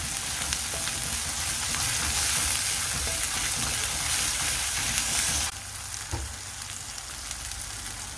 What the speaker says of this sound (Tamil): இப்போ நம்ம இஞ்சி பூண்டு பேஸ்ட், ஒரு மிளகாய் ஆட் பண்ணிக்கலாம். ரா ஸ்மெல் போகிற வரையும் வதக்கிக்கோங்க